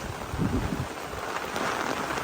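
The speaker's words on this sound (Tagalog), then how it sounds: "Grabe, lakas po ng ulan." Heavy rain pours steadily outdoors as a dense, continuous hiss with a low rumble beneath it, loud and unbroken, with no voices.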